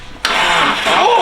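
A K-Series engine swapped into a car cranks and catches abruptly, then runs loud and close with a harsh, rough knock.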